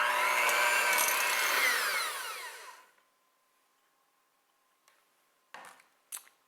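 An electric mixer beats cream cheese for a cheesecake batter, a loud steady whir for about two and a half seconds that winds down and stops, followed by a few faint clicks and light knocks.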